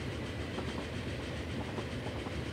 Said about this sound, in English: We've got that old train that's just pulled in just in there.